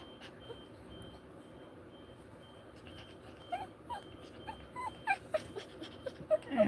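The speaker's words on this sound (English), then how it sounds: "And my dog wants me to hold her." A small pet dog whimpers and whines with rising intensity in a quiet room, short plaintive squeaks coming closer together toward the end, with faint rustling and low background hum.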